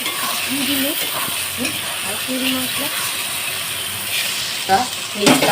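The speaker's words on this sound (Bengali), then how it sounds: "টমেটোর পেস্টটা এর মধ্যে দিয়ে দিলাম দিয়ে এইভাবে আবারও আমি কষাতে থাকতে" Goat meat curry with tomato paste sautéing in a pan, a hissing fry with the clatter and scrape of stirring, a louder scrape near the end, with bits of voice in the background.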